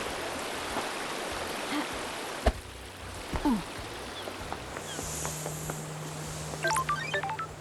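River water flows steadily in a video game, a continuous watery rush broken by scattered clicks and a few rising chime-like tones.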